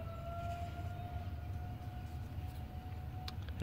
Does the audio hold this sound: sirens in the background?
yes